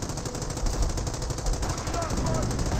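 A .30 cal machine gun firing in the video game Company of Heroes, a steady rapid rattle of shots running continuously and fairly loud, with faint talk underneath.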